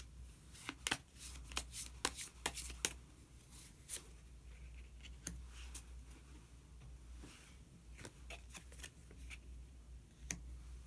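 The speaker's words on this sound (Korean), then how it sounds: "히든 카드 한 장 더 뽑아보도록 하겠습니다" Tarot cards being shuffled and handled close up, quiet crisp riffles and taps in irregular bursts, without any talk.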